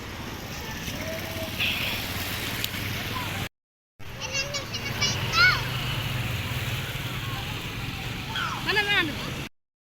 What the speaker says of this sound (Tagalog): Ang lakas ng alon bumabalik.